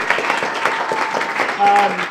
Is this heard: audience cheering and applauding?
yes